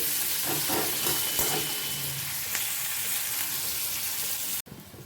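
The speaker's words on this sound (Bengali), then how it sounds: "আগে পেঁয়াজটা একটু ভেজে নিই ভাজা ভাজা করে নিই" Onion and green chilli fry in oil in a pan with a steady, close sizzle and a few stirring scrapes, briefly cut off near the end.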